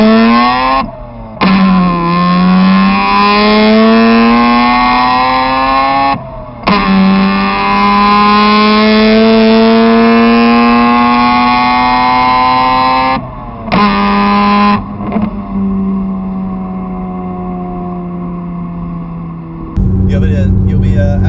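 A 2003 Mazda RX-8 rotary engine with a custom exhaust revs loud and close, rising in long pulls with brief lifts between, then settles into a rough idle before a final blip.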